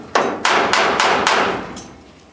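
A hammer taps on a gas forced-air furnace's heat exchanger to loosen a part, giving four or five loud, ringing metallic strikes about a third of a second apart that echo and fade.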